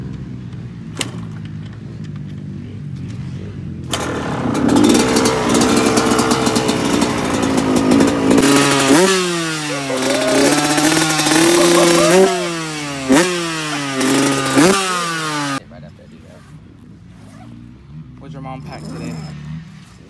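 A small Honda kids' dirt bike engine revs repeatedly in close, loud rising and falling bursts, with voices talking before and after.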